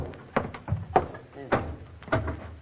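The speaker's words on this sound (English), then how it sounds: "Sounds like the front door banging in the wind." A front door banging in the wind in a rural village setting, heard as four or five hollow wooden knocks at an uneven rhythm, moderately close, with people talking between the bangs.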